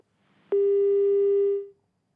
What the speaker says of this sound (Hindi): रावत साहब का भी फोन कटा है